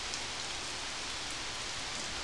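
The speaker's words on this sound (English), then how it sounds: "Yeah, it just started raining here." Steady, dense hiss of rain that has just started falling outdoors, continuous and even throughout with no other sounds.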